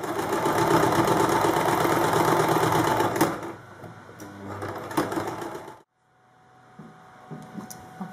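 A sewing machine runs in a fast, continuous stitching whir while sewing tape onto an A-line skirt, then slows, pauses and stops, leaving a quiet room with a few faint clicks and handling sounds.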